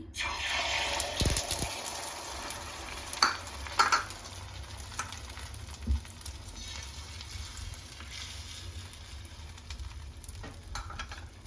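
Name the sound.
beaten egg sizzling in oil in a pan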